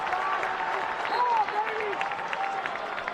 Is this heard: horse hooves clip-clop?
no